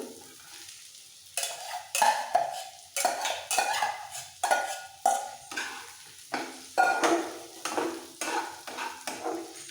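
Roasted semolina is stirred into cooked vegetables for upma, with a spoon scraping and knocking against the pan in quick repeated strokes over a light sizzle, loud and close, no voices.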